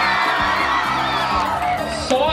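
A crowd at the Ciranda Flor Matizada results count shouting, whooping and cheering loudly and continuously, with individual yells and voices rising above the roar.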